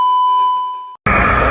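Steady electronic tone with a faint harmonic, the decoded 1977 Wow! radio signal rendered as a clear whistling beep, holding for about a second before cutting off into a loud burst of broadband noise.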